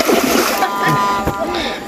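An object splashes down into water outdoors during a fishing trip, a brief loud splatter with sloshing, heard close under excited talk.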